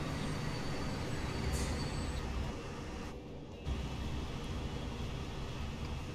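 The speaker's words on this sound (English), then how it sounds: "So that was our train" A passenger train passes in the rail simulation game Transport Fever 2, a continuous broad rumble that dips briefly in the middle and then resumes at an even level.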